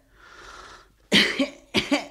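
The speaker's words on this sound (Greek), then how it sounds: "Βήξε, βήξε και ανάσαινε." A soft breathy exhale, then two sharp, loud coughs in quick succession, close up.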